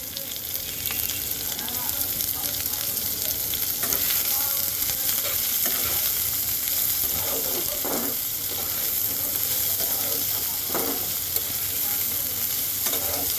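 Chopped onion fries in hot oil over ginger and garlic for a prawn and taro-leaf dish, a loud continuous sizzle broken by repeated scraping strokes of a spatula stirring the pan, no speech.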